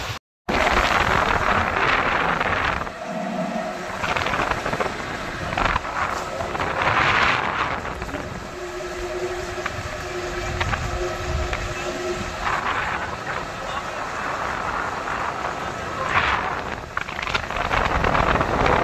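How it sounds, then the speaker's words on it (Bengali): A trawler boat pulls away from Sannyasi ferry ghat on a river near Swarupkathi, its engine a loud, steady drone mixed with gusty wind buffeting for the whole stretch. "ট্রলার ছাড়ছে মাত্র।"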